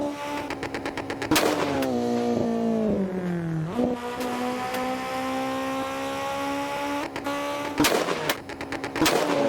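Mitsubishi Lancer Evo in the Assetto Corsa racing game, an engine revving with rapid machine-gun-like exhaust backfire pops and crackles that recur in bursts, loud and close over a steady engine drone that rises and falls with gear changes.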